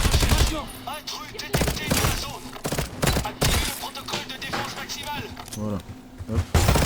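Automatic mini turret firing in the Black Ops 7 campaign, rapid gunfire bursts mixed with game effects under continuous French talk.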